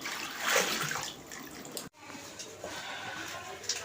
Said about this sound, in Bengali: এই তো ধুয়ে নিচ্ছি এখন